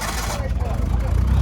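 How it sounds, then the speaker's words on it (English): An older French classic car at a Henley classic car meet starts up, its low rumbling engine catching and settling into an uneven idle amid outdoor noise, with a voice faintly present. "You gotta love the startup of an older car."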